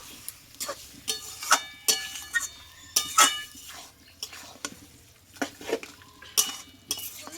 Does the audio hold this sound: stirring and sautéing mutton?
yes